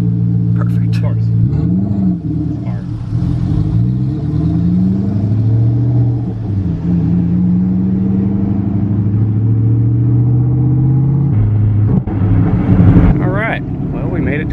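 A turbocharged Coyote V8 Mustang heard from inside the car drones and builds under load, with deep rumbling and rising engine tones and wind noise, while people talk over it.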